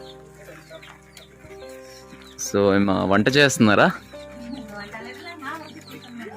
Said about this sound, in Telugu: ఇక్కడ చూడండి నాటు కోడి పిల్లలు